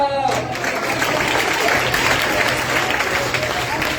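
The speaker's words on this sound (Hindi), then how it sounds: "तालियां बजाते हुए सब अपनी जगह पर बैठे" A church congregation at a worship gathering in Jhelum claps together in a sustained, dense round of applause, loud and even, with a few voices faintly mixed in underneath.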